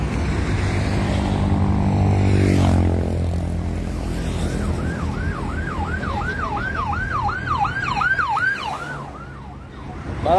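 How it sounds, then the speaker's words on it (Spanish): An ambulance siren approaches the scene of a pickup truck rollover on a bridge, wailing loudly in a rising and falling pattern over heavy road traffic noise, growing closer. "Ahí viene ya la ambulancia"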